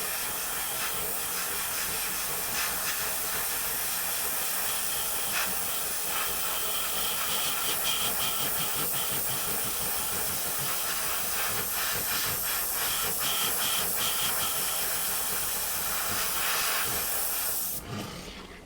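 A Kaleido ColorWorks paint spray gun sprays paint in a steady, continuous hiss with a faint rhythmic pulsing, close and alone, cutting off sharply near the end.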